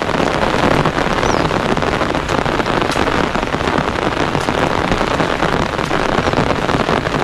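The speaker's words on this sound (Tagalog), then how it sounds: "Yan, lumakas yung ulan." Heavy rain pouring steadily over rice paddies, a loud dense hiss that never lets up.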